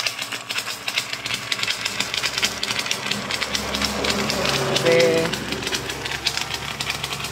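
A fully automatic foaming machine runs during a test, giving a steady mechanical clatter and hiss with a brief louder burst near the middle, while a person talks over it.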